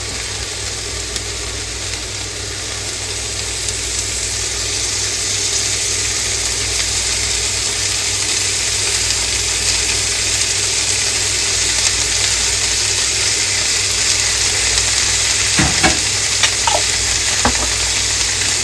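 Steady, loud sizzling of pesto in a hot pan fills the whole stretch, a dense crackling hiss with a low hum beneath it and a few faint clinks near the end.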